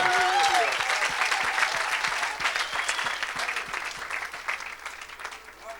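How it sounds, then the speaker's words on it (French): A church congregation gives a loud, sustained round of applause, dense clapping that stays strong for several seconds and slowly thins, with scattered voices and a brief tonal vocal cry near the start. "Donne-lui une grande acclamation"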